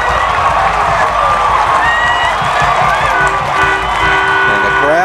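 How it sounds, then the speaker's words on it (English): A football stadium crowd roars in a dense, loud, continuous wash of cheering at Yount Stadium, with a commentator talking over it. "And the crowd goes wild here at Yount Stadium."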